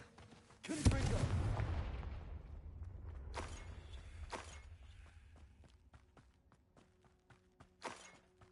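The Confringo blasting spell detonating in the game Hogwarts Legacy: a sharp loud burst with a long rumbling decay, followed by a few fainter impacts and crackles, with sparse footsteps and clicks in the quiet between.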